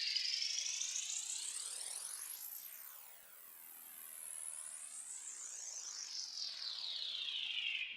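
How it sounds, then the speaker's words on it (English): A synthetic riser effect built in FL Studio from a looped, pitch-slid video game sound: a bright, high, phasing sweep that sinks midway, then climbs and swells steadily, with no voices. "After all the effects and automation, it sounds like this."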